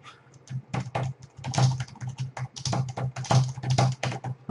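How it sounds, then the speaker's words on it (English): Rapid typing on a computer keyboard, with irregular bursts of clicking keys close up and fairly loud, alone with no voices. "So you can just sit here and start typing a new product name."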